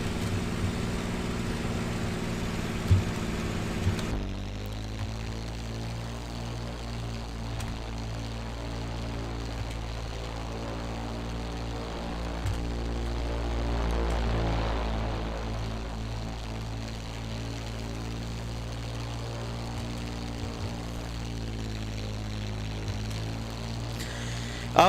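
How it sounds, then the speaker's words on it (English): A North American P-51 Mustang's piston engine drones in Flight Simulator X, a steady harmonic propeller hum that shifts character after four seconds and holds a sustained, slightly swelling tone to the end. "when you hear the engine kicking all the way"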